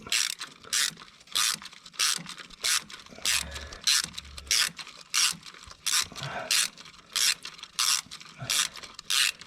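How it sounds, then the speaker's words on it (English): A 1/4 inch ratchet loosens a bolt on a Ford Flex timing cover, giving a close, crisp series of rapid clicking bursts in a steady back-and-forth rhythm, with faint low mechanical knocks between strokes. "I got this 1/4 inch ratchet here, and when I put it in the forwards motion"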